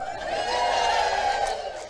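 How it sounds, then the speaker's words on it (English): A crowd of people at a learning day cheers and hollers together, a short, dense wall of voices at steady loudness lasting under two seconds. "And the crowd goes wild."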